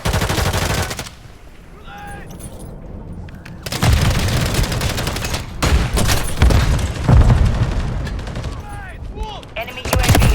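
Rapid automatic gunfire and heavy booms from a Call of Duty: Modern Warfare III match, loud bursts crackling in repeated volleys with short lulls, mixed with game voice callouts and chatter throughout.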